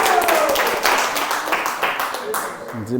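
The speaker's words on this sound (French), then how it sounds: "on applaudit Lenny" A group claps and applauds at a French-speaking gathering, a steady wash of hand claps running under ongoing talk and voices throughout.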